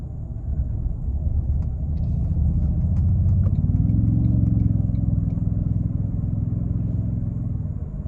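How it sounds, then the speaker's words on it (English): A 2024 Toyota Tundra TRD Pro pickup's deep exhaust rumbles steadily nearby, swelling slightly in the middle as if revved gently, then settling back to a throaty idle. "it doesn't sound far off from the actual exhaust"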